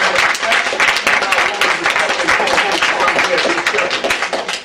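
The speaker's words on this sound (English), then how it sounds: "Put a nice round of applause together for our motivator." Audience at a respect program event gives a round of applause for a motivational speaker, dense steady clapping that fills the whole stretch at close range with some crowd murmur.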